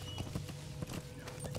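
Horse hooves clip-clop steadily in Metal Gear Solid V: The Phantom Pain, a quick rhythmic series of close hoofbeats over low game ambience.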